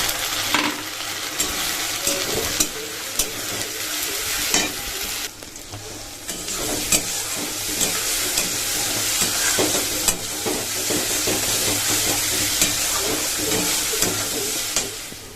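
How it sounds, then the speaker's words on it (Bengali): Onions and spices sizzle and fry in a pan, with a continuous loud crackle broken by repeated scraping clacks of a spoon as the mix is stirred, and no voices. "এদিকে দেখো আমার পেঁয়াজটা কিন্তু একদম ভাজা হয়ে গেছে তো এই দেখো এবার হচ্ছে মশলাটা দিয়ে দিন"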